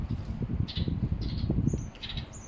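Wild birds chirp in short, high, bright calls, several quick tweets scattered over a few seconds, fairly faint against a soft low background rumble.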